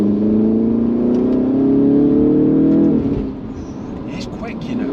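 An Alfa Romeo Giulia Veloce accelerates on a wet road, its engine note climbing steadily before easing off, heard from inside the car with a person talking over it.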